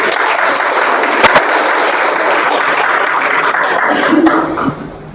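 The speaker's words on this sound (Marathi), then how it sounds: "टाळ्या वाजवा की" A large audience at a speech claps together in loud, dense, sustained applause that dies away near the end.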